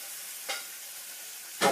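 Pasta tipped into a hot pan of sizzling bacon, a soft steady fry with two brief hissing bursts as it lands and gets stirred.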